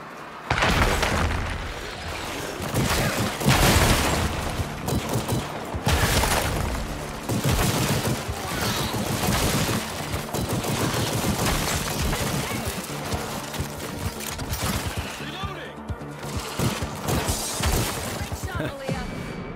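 Dense, continuous gunfire and crashing impacts fill a VR shooter game, After The Fall's Skid Row level, loud bursts running nearly the whole time with voices speaking underneath.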